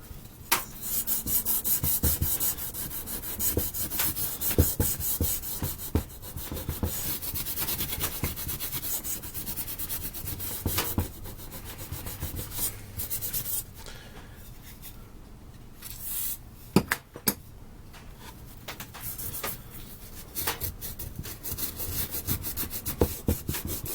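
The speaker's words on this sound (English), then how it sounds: "I'm just using a little bit of WD-40 and some Scotch-Brite" Steady rubbing and scraping of a Scotch-Brite pad with WD-40 over a burnt gasket area on a Champion generator engine, with dense, uneven strokes running throughout at close range and no talking.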